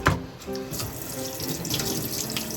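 Water from a kitchen tap runs steadily while food is rinsed under it, close and moderately loud, with faint clinks at the start and no talking.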